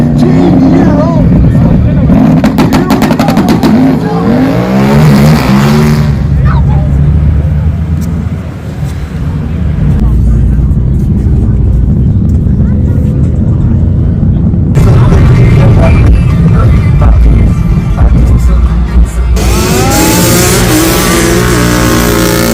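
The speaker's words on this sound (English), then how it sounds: "That is racing no matter ATV, UTV." ATV and UTV engines at a mud drag race, revving hard and roaring loudly in bursts with surging, rising pitch, an announcer and crowd noise mixed in between runs.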